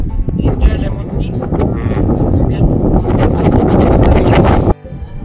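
Cold wind blows outdoors in Shillong, gusting steadily against the microphone as a continuous rough roar, with some talk mixed in throughout.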